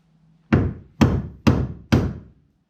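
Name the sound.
hammer striking chisel on rivets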